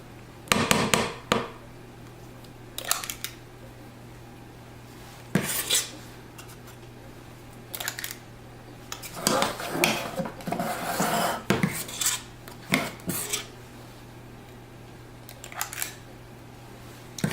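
Banana muffin batter scooped into a muffin tin, with intermittent metallic clinks and scrapes of a scoop against the tin in short bursts separated by quiet gaps, close by, no speech.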